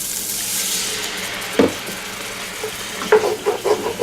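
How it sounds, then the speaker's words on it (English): Liquid hitting a hot pan of browned garlic, onions and meat bits for round steak in gravy, a soft hiss followed by several quick scraping stirs near the end. "We'll go ahead and deglaze that one more time."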